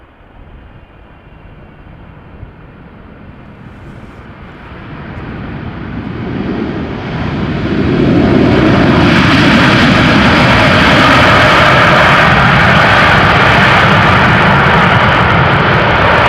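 A China Southern Cargo freighter arriving from Guangzhou lands at Amsterdam Schiphol in strong crosswind, its jet engine roar building steadily from a distant rumble to a loud, sustained roar that fills the second half.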